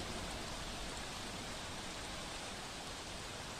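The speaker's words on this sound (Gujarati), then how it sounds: "સુરત શહેરમાં જે રીતે ગાજવીજ સાથે વરસાદ વરસી રહ્યો છે" Heavy rain pours down over Surat city, a dense, even wash of hiss at moderate distance with no distinct thunder and no voices.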